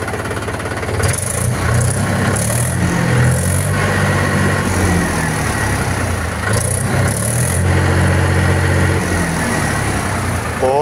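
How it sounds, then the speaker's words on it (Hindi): A heavy diesel engine of a 2013 Mahindra 265 tractor idles steadily with a deep, rumbling throb and mechanical clatter, loud and close, running continuously throughout. "बहुत ही प्यारी आवाज़ है ट्रैक्टर की भाइयों।"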